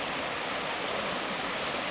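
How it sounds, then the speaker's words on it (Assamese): A stream of flowing water babbles with a steady, even rush, soft and continuous throughout, with no voices. "ইয়াৰ কাষত কি ধুনীয়া এটা জুৰি, পানী"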